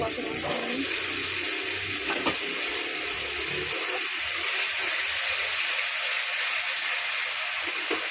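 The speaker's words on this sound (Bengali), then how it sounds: "একটু জল দিয়ে নিই" Water pours into a pan of cabbage curry masala with potatoes and peas, a steady broadband splashing and hiss running throughout at moderate loudness, with faint low background noise.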